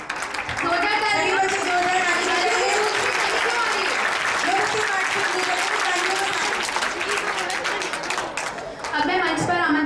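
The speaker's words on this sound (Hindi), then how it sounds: "जोरदार ताली।" Loud, sustained applause from a crowd at a Republic Day celebration, with dense clapping mixed with cheering voices throughout, briefly dipping near the end before swelling again.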